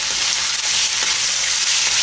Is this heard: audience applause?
no